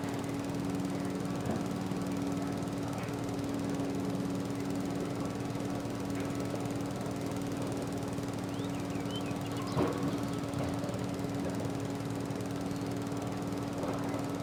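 Husqvarna zero-turn lawn mower mowing grass in a rural setting, with a steady engine drone and a constant low hum holding at even loudness, alone without talk.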